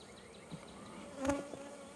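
Honey bees buzz faintly in an open hive during a honey super inspection, a soft drone with a brief closer buzz passing near the middle.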